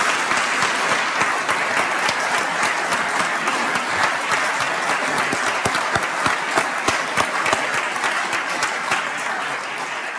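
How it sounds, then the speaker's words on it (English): Large audience applauding during a governor's State of the State address in a hall, sustained loud clapping with a steady roar, individual sharp claps standing out near the end. "please give yourselves and our statewide partners a big round of applause"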